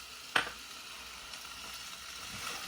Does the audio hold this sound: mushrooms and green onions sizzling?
yes